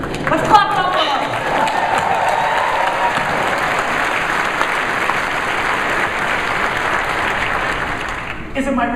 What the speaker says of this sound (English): Let's clap it up for us.